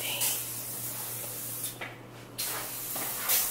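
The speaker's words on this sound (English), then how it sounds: "I normally spray." Lysol disinfectant spray being sprayed indoors: a steady hiss of aerosol running over a low background hum, broken by a short pause before spraying resumes.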